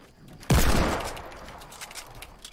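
A single sudden burst of gunfire from the video game Fortnite breaks a quiet moment, then trails off in a fading rumbling echo.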